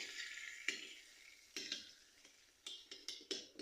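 White sesame seeds and chilli pieces being mixed for a chilli oil sauce, soft stirring with a series of light clinks and scrapes of a spoon against a bowl, close and fairly quiet.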